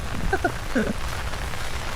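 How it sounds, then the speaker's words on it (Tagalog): Steady rain patters on a surface with a soft, even hiss, while a couple of brief faint vocal sounds come through near the start. "inabot na ako ng ulan"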